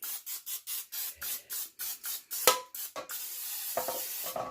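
Cooking spray hisses into a cake pan for a German apple cake in a home kitchen, a string of about ten short rhythmic bursts followed by a longer continuous spray, close and clear.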